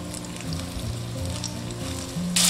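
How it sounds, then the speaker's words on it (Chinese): Hairtail fish coated in starch and beaten egg pan-frying slowly in oil over low heat, giving a steady, close sizzle that swells into a brighter, louder crackle at the very end. "全程小火慢煎"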